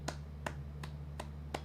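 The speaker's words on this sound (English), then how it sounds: "Little golf clap" Small, polite golf clap: five crisp, light claps evenly spaced about a third of a second apart over a low steady hum, with nobody talking.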